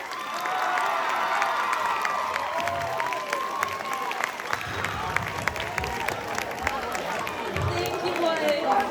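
High school audience at the Leland High School Mr. GQ pageant cheering and applauding, a steady loud crowd roar with clapping and shouts throughout, voices mixed in.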